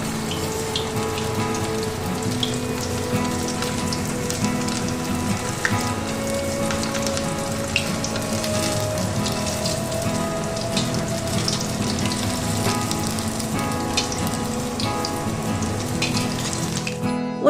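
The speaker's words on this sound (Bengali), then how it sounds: "এবার আমি এখানে এগুলোকে ছেড়ে দিচ্ছি আর গ্যাসের ফ্লেমটা একদম লোতে রেখে আমি এটাকে ভালো করে ভেজে নেব।" Cone chicken snacks deep-fry in hot oil over a low gas flame, a steady dense bubbling crackle like rain on a surface that continues unbroken throughout, with no talk.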